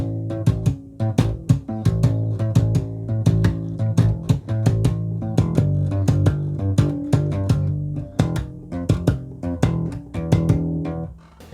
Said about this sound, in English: one thing I do is I do a double thumb before I move on to the next pop